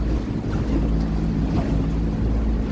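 Loud, steady rumble of a speedboat engine mixed with rushing wind and choppy water noise in Cancun, Mexico, continuous and close.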